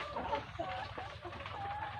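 Laying hens cluck on an egg-laying poultry farm in a steady, busy chorus of overlapping calls that run throughout.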